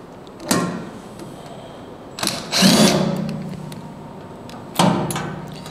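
Cordless impact driver backing bolts out of the gantry cover on a CanCam C2 CNC router, in three loud close bursts of rattling hammering, each trailing off, with pauses between and no talk.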